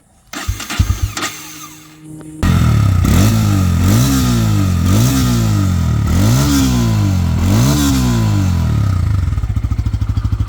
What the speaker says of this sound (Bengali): বাইকটা যদি আপনাদেরকে স্টার্ট করে সাউন্ড কন্ডিশন দেখাই